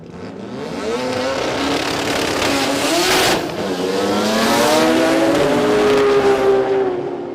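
A Supra drag car at an Australian sports compact drag racing event accelerates hard down the strip, its loud, strained engine climbing through rising revs with a shift partway through, steady and close for several seconds.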